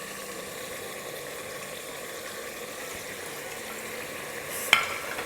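Spices being stirred into meat in a pan for korma, a soft continuous sizzle with faint scraping and a single sharp clink near the end.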